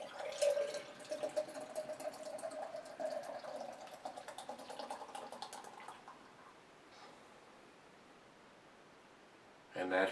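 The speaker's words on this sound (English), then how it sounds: "that's probably one of the most aggressive pours you've ever seen me do" Nitro Firestone Walker Merlin milk stout poured quickly into a glass, a steady soft hissing, fizzing stream that tapers off and falls quiet.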